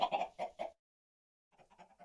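A few short clucks from chickens in the video game Minecraft, a quick burst of clucking, a pause of silence, then softer clucking resumes.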